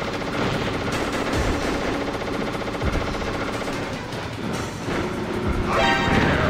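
Rapid machine-gun fire from an enemy in the video game Metal Gear Solid, sustained bursts rattling steadily and loudly throughout with no pause.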